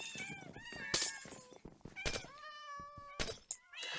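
Cats in the Minecraft video game meow over and over, several overlapping high, wavering cries coming in quick succession, loud and close, with no other sound between them.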